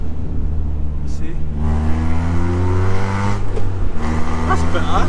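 A Honda Civic EP3 Type R with straight pipes and an M2 Hornet exhaust revs hard as the throttle opens, a loud raspy engine note climbing in pitch in rising sweeps, with a voice talking alongside.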